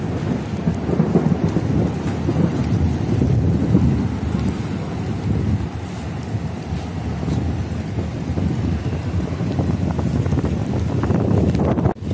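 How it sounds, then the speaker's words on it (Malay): Heavy rain pours down on the plain of Arafah while strong wind roars in loud, gusting waves, a dense continuous storm noise from start to finish. "ini bukti kencangnya angin dan hujan di Arafah hari ini, sangat deras dan kencang"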